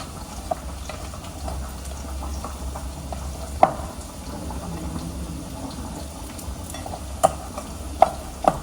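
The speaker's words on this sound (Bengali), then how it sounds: "এইবার সবগুলোকে ভালো করে মাখবো, জল দেবো না, শুকনো করে মাখতে হবে" Coconut bora mixture is worked by hand without water, giving a faint, soft squishing and rustling with a few sharp clicks and taps scattered through a quiet kitchen.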